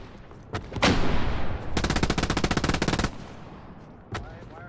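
STG 44 rifle fire in the World War II shooter game Hell Let Loose, a few single loud shots followed by a rapid sustained burst of automatic fire, close and dry, then another lone shot.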